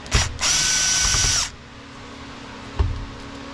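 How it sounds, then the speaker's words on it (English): A screw being backed out of a Stihl 029 Super chainsaw with a power driver: a short burst, then a loud steady whirring run of about a second, a pause, and a single faint knock near the end. "we're going to take this screw out here"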